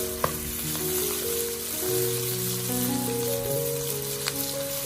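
Shrimp turned to fry their second side in scallion oil in a wok crackle with a constant, moderately loud sizzle, broken by a couple of faint ticks, under a gentle melodic backing.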